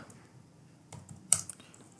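Keyboard typing of code in a quiet room, a few light soft keystrokes building to one sharper, louder key press near the end, close to the mic.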